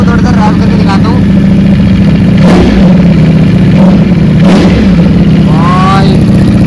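MV Agusta Superveloce motorcycle engine, a low-mileage superbike, revving in repeated throttle blips that rise and fall loudly up close, with a voice talking over it.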